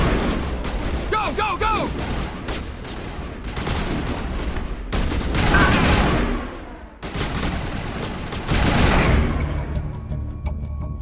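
Heavy Mass Effect combat erupts into dense automatic weapon fire and bursts of shooting, loud and close with blasts and echoes, as a voice shouts commands amid the barrage.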